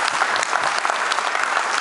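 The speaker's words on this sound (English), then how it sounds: "Can we give a big round of applause?" Dense audience applause at an on-stage event in Malaysia, steady and continuous throughout with many overlapping hand claps and no gaps.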